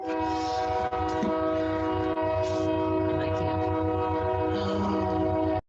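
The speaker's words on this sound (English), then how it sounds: "I've got a train coming." A passing train sounds a long, loud, steady horn with a sustained harmonic chord, rumbling wheels and rail noise underneath, heard nearby and filling the whole stretch before it cuts off.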